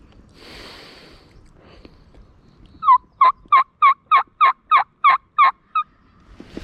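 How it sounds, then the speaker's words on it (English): Wild Oregon gobbler during a spring turkey hunt, a loud nearby gobble of about nine rapid rattling notes in a quick even burst, following a few seconds of quiet rustling with no talk. "There was some more gobblers he was going to."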